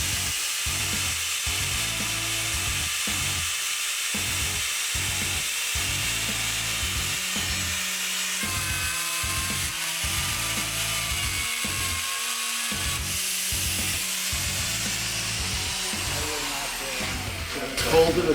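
A Metabo beveler cutting a metal edge, a loud continuous whining grind with rhythmic pulsing chatter underneath, running steadily close by before a brief change at the end.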